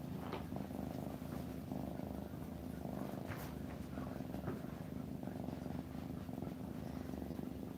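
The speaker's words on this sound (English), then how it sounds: "he's always got a big purr as soon as you start petting him" A pet cat purrs steadily while being stroked, a soft continuous low rumble held close to the microphone, faint and unbroken for several seconds.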